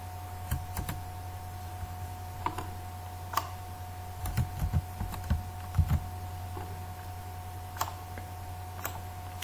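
Typing on a computer keyboard while entering HTML table code: sparse, faint keystroke clicks scattered irregularly over a steady low electrical hum, with no voices.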